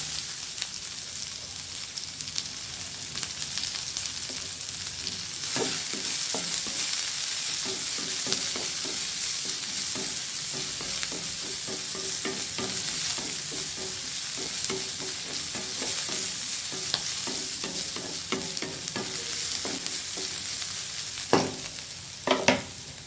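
Chopped onions frying in a pan with green chillies for ragi soup, a constant close sizzle with repeated scraping stirs throughout and a few louder clanks near the end.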